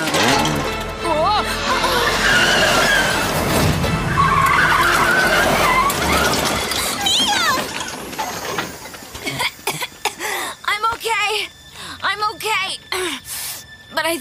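Car tyres screech loudly in a long skid through a curve during a race, fading after several seconds into talk and laughter.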